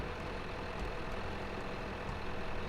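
A tractor engine in the farming game Farming Simulator 2015 drones steadily, a dense, unbroken low rumble with a rough, noisy texture.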